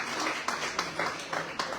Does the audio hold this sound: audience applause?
yes